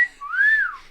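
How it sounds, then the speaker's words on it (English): A person gives a two-note wolf whistle as a signal while foraging for mushrooms on the coast of Northern California, a short rising then falling tone heard alone and close. "kind of like a pretty girl whistle"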